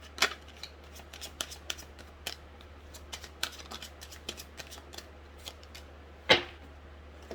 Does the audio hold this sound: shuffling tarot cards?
yes